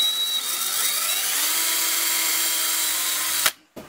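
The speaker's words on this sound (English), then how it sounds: "I'm going to go ahead and start me up a pilot hole" Power drill boring a pilot hole for a homemade lawn striper for a riding mower, a steady close whine for about three seconds that rises slightly in pitch before cutting off abruptly.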